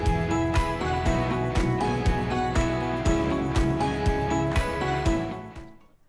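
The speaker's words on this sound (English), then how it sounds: "use the impact driver, and start getting it all tightened down." An impact driver tightens bolts during a CR Laurence sliding window install on a Promaster van, hammering loudly and steadily in a rapid ratcheting rhythm that winds down at the end.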